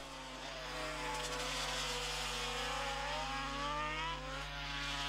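A Honda racing motorcycle screams at full throttle through a race, its high engine note sustained and rising slightly, loud and continuous with no talk over it.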